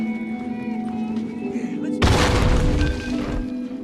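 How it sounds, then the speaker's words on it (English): A nail bomb detonates in The Last of Us video game: ambient game sound gives way to a sudden loud, broadband blast that rolls on as a dense, crackling roar for the rest of the moment. "you can use those same type of nails to make a bomb. This is something you can place in the world, and they're going to be able to trigger"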